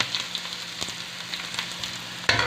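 Ginger and garlic sizzling as they fry in a pan with onion, a steady close crackle with small pops and a sharper burst of sizzle near the end.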